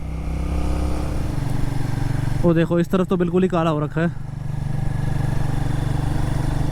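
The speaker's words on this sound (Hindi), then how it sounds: "बाइक चलाने का मज़ा इन रोडों पे है।" A Royal Enfield Guerrilla 450 motorcycle rides along an open road, its steady engine drone and wind rumble running continuously while someone speaks over it for a few seconds.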